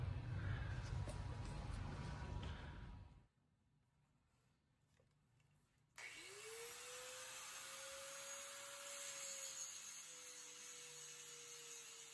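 A loud angle grinder whines, cuts out briefly, then spins back up with a rising motor pitch that settles into a steady high grinding drone, removing a stabilizer link from a 2009 Honda Accord.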